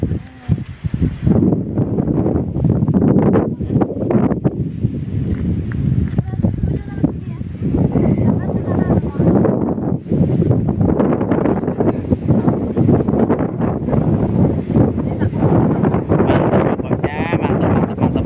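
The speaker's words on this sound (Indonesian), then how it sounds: "Tapi anginnya kenceng banget, teman-teman." Strong wind roars across the microphone at a southern Blitar beach, a constant buffeting rush with people talking underneath throughout.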